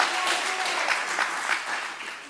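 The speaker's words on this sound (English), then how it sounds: "Some applause, yes." Applause from the audience at a mayor's press conference, a short, dense burst of clapping from a sizeable crowd in a room, fairly close and steady throughout.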